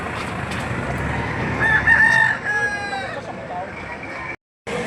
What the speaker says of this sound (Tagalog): Ito ang sitwasyon sa bintahan ng manok dito sa Padre Garcia Livestock Auction Market